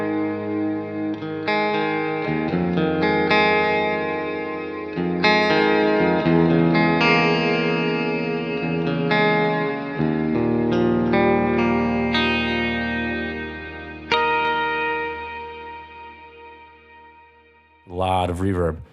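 An electric guitar played through an Axe-Fx II with lush, heavy reverb rings out in strummed chords that bleed into long shimmering tails, each new strum stacking on the wash before it fades, with a brief voice near the end.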